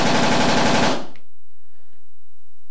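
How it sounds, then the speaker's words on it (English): A pepperball launcher on fully automatic fires a single loud burst, about one second of fast popping shots at up to 12 rounds per second, then abrupt silence with a faint low hum. "all the way up to fully automatic mode at a rate of up to 12 rounds per second"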